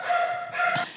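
A dog gives two short, clear barks or yips in quick succession, fairly close and loud, coming through a headset.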